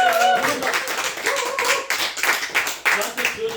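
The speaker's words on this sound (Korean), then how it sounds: "여러분의 다시 한번 뜨거운 박수와 함께 시작하도록 하겠습니다" An audience at a meditation and hypnosis session claps to open a talk, uneven clapping with distinct hand strikes and voices mixed in, close by.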